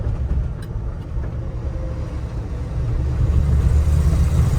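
Engine of a 1981 Jeep CJ-7 Laredo with a 4-speed, pulling in second gear while driving, a steady low rumble that grows louder and heavier toward the end, heard from inside, with no talk.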